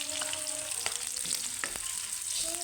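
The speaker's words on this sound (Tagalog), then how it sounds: "Sunod na yung luya. Ayan, luya guys. Luya. Ito lang natin na golden brown." Ginger frying in oil until golden brown gives a continuous close-up sizzle with a few sharp pops and spatters. No voices are heard.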